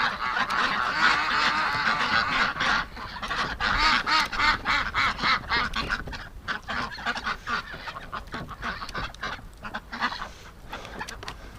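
A flock of ducks, with geese-like honking among them, quacks and honks continuously and loudly at close range, many overlapping calls in dense bursts around a winter feeder, no voices.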